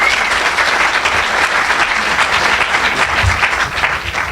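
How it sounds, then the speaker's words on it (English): A room full of people gives sustained, loud applause at a startup community sponsorship event, the clapping dense and continuous, easing slightly toward the end. "So I want everyone to give a round of applause."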